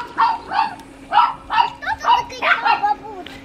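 Small chihuahua dogs bark in a quick series of about seven sharp, high yaps, fairly close and loud, with a steady hum underneath.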